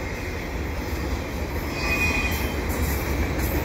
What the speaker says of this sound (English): There has to be a DPU on this train. It's just too long for one locomotive.